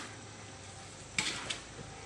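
Pancit bihon noodles being stir-fried give a soft, steady sizzle, broken by two sharp metallic scrapes or clanks of a utensil against the pan partway through.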